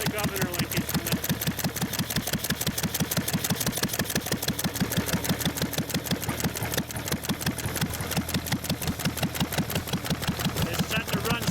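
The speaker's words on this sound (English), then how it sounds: "It's set to run smoothly at the speed that it's governed for." A 1.5 hp IH McCormick Deering stationary engine runs at its governed speed, chugging in a fast, steady, even rhythm of firing strokes, close and clear.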